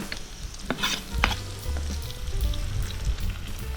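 Bell pepper goes into a hot sadj pan and fries with a steady close sizzle, while stirring adds a few scraping knocks against the metal.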